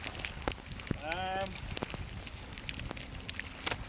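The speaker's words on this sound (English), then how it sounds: "It's raining harder and harder" Heavy rain falls outdoors on a windy shore, a steady dense patter that fills the clip, with a brief rising whistle-like tone partway through.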